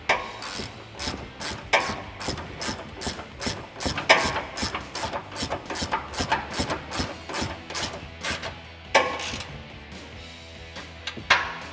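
A hand ratchet with 21 and 18 mm sockets snugging the control arm bolts on a Ford F150, rapid clicking strokes repeating in bursts with short pauses, close and clear.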